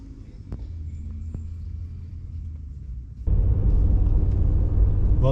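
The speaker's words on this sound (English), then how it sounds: "Dad's driving the motorhome" A motorhome rumbles steadily up a long dirt road, its low engine and road noise droning throughout and swelling noticeably louder and rougher about three seconds in.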